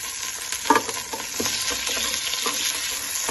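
Meat sizzles loudly in hot oil in a pot for Moroccan harira, with a bright continuous hiss and a few scraping stirs early on, close by, no voices.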